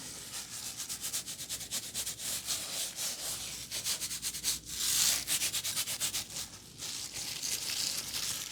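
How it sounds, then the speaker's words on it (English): Bristles scrub back and forth in quick rhythmic strokes, a dry scratchy rubbing that keeps going steadily at close range without any voices. "Yes, it's a brush."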